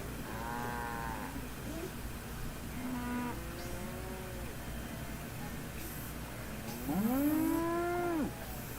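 Cow in the Nancy Drew video game, lowing in several drawn-out moos, moderately loud, the last one the strongest, over a faint steady background hum.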